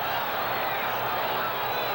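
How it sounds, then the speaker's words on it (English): Steady broadband roar of a large crowd at an NFL game between the San Diego Chargers and Denver Broncos in Denver, continuous and fairly loud throughout with no distinct voices. "Crowd gets a little noisy, as they frequently do"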